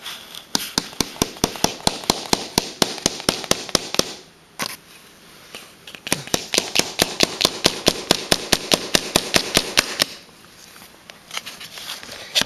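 Small 5/8 inch nails are tapped into a wooden beehive frame with rapid, steady hammer strikes, dozens of sharp close knocks in quick runs separated by a couple of short pauses.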